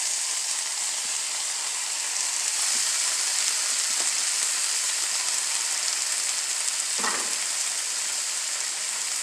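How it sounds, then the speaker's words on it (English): A handful of spinach sautés in a pan with a steady, even sizzle and hiss throughout, plus a few soft clicks and one brief scrape of stirring; no one speaks. "let's just cook it, saute it until it's done"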